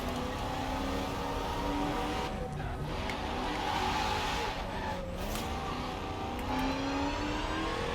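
A Zenvo ST1 engine in Forza Horizon 4 revs and roars continuously, with rising and falling pitch and brief tire squeals, loud and close throughout.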